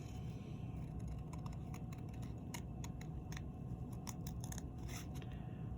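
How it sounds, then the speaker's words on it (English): Scissors snip through paper card in a run of close, crisp cuts for fussy cutting around a design, sharp clicks in an irregular rhythm over a steady hiss of background noise, with no one talking. "So you'll just want to fussy cut this."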